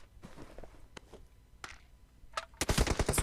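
Gunfire in the mobile battle-royale game PUBG Mobile: scattered single shots early on, then a loud, dense burst of automatic fire near the end, with faint footsteps between.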